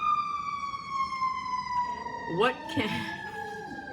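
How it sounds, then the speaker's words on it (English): Emergency vehicle sirens pass by, their steady wailing tones sliding downward as they go, while a person talks over them and a dog joins in with howls near the end. "the sirens are going by"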